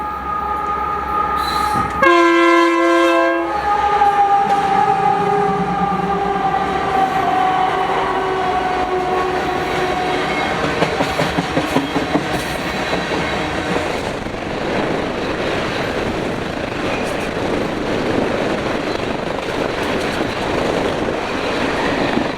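A slow Union Pacific freight led by UP 5912 blasts a brief loud horn near the start, then rolls by with a steady rumble and rhythmic clickety-clack of wheels over rail joints.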